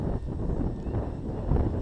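Low, rumbling wind buffets the microphone continuously at an RC plane flying field, a dense blustery roar with no voices.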